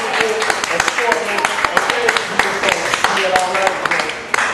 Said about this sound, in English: Cotton Campbell, please, let's give them a round of applause.